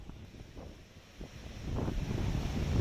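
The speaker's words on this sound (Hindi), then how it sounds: "काफ़ी तेज़ हवाएं चल रही हैं" Strong gusting winds from Cyclone Amphan at Kendrapara buffet the microphone with low, rumbling roar that swells and grows louder toward the end, with no voices.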